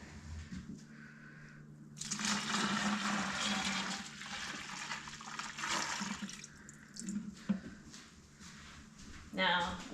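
Water pours and splashes steadily into a mead fermenter for a ginger mead brew, a loud rushing stream lasting several seconds with quieter clatter and trickles around it.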